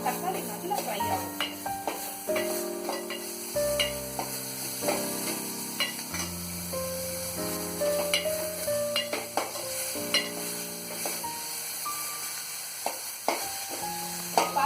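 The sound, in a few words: tomatoes and salt frying and being stirred in a pan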